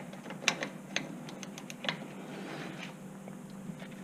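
A torque wrench clicks as it tightens a front axle nut on a Chevy Trailblazer during a front wheel bearing job, a few sharp separate clicks over quiet workshop background.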